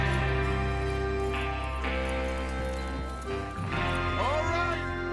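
Several horses clip-clop at a brisk gallop under a sustained musical score in Red Dead Redemption II, with a short whinny rising near the end and voices talking over the action.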